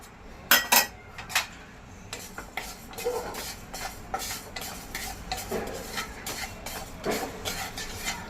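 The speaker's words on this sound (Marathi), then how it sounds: "मिरं काढून घेतलं जिरं भाजून घेऊया" Cumin seeds dry-roast in a pan while being stirred, giving repeated scraping and metallic clinks of a spoon against the pan, louder strokes at first and then softer regular stirring, close up and with no voices.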